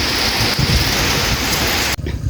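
Heavy rain falls outdoors over rice paddies in a steady, loud hiss with a low rumble, cutting off abruptly near the end.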